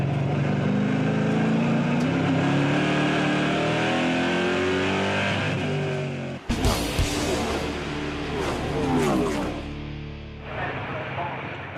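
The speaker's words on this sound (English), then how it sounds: "He shoots past Zimmer under braking for corner number 3." NASCAR Euro race cars at Brands Hatch in England, a loud engine note climbing steadily for several seconds, then an abrupt cut to a passing car with harsh revving and gear changes; a commentator talks over the racing.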